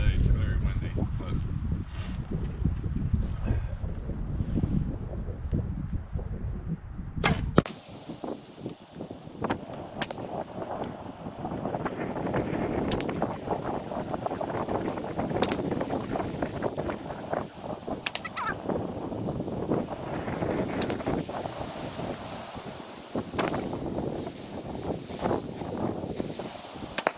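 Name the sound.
wind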